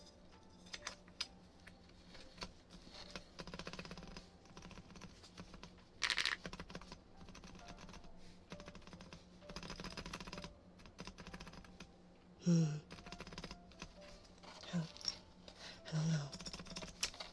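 Typing on a computer keyboard with decorative keycaps, a steady patter of key clicks in short bursts close to the microphone, with a few louder clacks and brief quiet talk.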